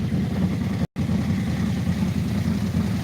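A car engine idling in an auto repair shop with a slightly high idle: a steady low rumble with a brief dropout near the start, close and continuous, no talk.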